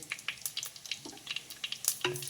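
Cloves, shahjeera, cardamom and a piece of mace crackle in hot oil for a greens pulao, with quick spitting pops and a few stirring scrapes over a couple of seconds, close and moderately loud.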